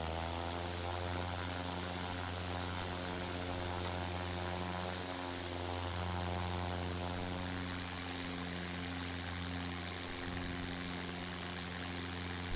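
A simulated Cessna 172 piston engine in the A2A flight simulator, flying over Norway, drones steadily and loudly throughout with a constant propeller hum and no talking.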